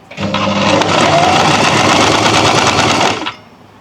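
A sewing machine stitches a curved, round neckline in fabric, its fast, steady whirring running close and loud for about three seconds before cutting off.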